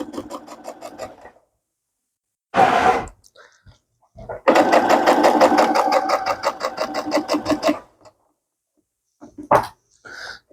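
A sewing machine stitches pieces of fabric, back stitching in short bursts: a close, rapid mechanical whirr that starts and stops, with one longer run of a few seconds between brief pauses and no talk.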